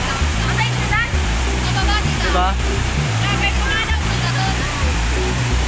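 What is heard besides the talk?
waterfall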